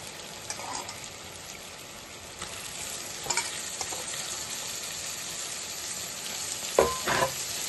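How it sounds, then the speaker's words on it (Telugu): Washed prawns frying in a pan for a curry hiss softly at a fairly low level, while a spoon scrapes and stirs now and then, ending in a louder clatter near the close. "ఇప్పుడు మనం కడిగి పెట్టుకున్న రొయ్యలు వేసుకుందాం."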